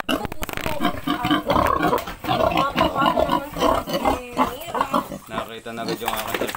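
Pig grunting and squealing on a farm, dense and continuous throughout, with people talking and other noise mixed in at close range.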